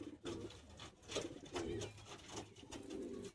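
A short-sized high-flying pigeon at a Bagnan, Howrah loft sale coos close by in several rounded, throaty phrases, steady and moderately loud with no talk over it.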